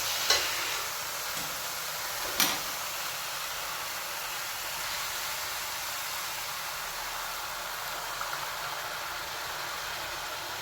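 Chopped tomatoes sautéing in a pan for Kerala pepper rasam, a steady soft sizzle throughout, with a couple of brief scrapes of stirring near the start.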